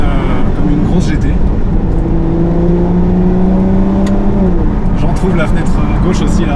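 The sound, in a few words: Aston Martin car engine accelerating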